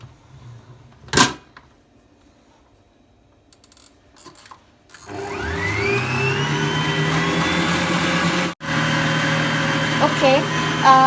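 An electric kitchen mixer whirs through butter and oil for cake batter, starting after a few clinks and thumps and then running loud and steady, briefly cutting out once before resuming.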